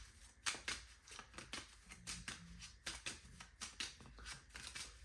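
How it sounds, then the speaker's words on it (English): Trading-card deck from the Teenage Mutant Ninja Turtles card game shuffled by hand on a table. Quiet, quick papery riffles and soft slaps come in an uneven run of bursts, with no voices. "We'll shuffle up."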